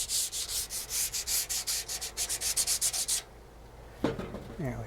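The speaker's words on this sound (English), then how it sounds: "that's pretty much the process with sanding it" Primer on a Harley part is sanded by hand with 220 grit sandpaper in quick back-and-forth strokes, about twenty rhythmic rasping passes up close. Then the sanding stops and a faint voice speaks briefly.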